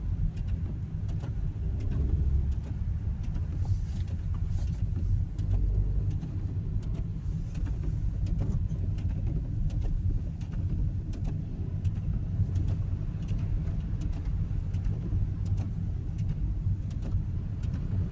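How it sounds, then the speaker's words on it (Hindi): A car creeps slowly along a slippery road in a heavy Danish snowstorm with its wipers running fast; a steady, close low engine and road rumble continues throughout without talk. "तो मैं बहुत आस्ता से गाड़ी चला रहा हूँ"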